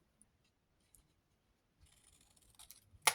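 Scissors snip through excess craft material during a Christmas project, a few faint scrapes building to one sharp, close cut near the end.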